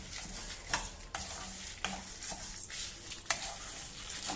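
Urad dal, coriander seeds and dried red chilies dry-roasting in a pan, quiet rustling and scraping of stirring with a few sharper clinks, fairly faint and close.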